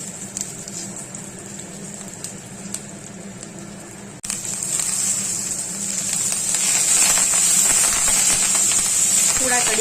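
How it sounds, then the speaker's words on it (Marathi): A loud hissing sizzle bursts in partway through and keeps crackling steadily as chillies splutter in hot oil with browned garlic, after a quieter stretch of kitchen noise. "मिरची तडतडली"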